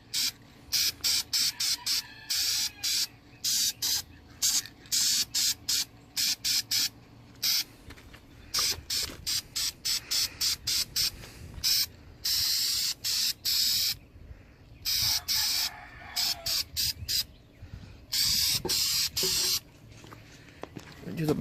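Spray painting a Ford SVT Lightning supercharger, with short bursts of aerosol hiss repeating in a quick irregular rhythm. The hiss is close and loud, and a voice speaks faintly under the bursts.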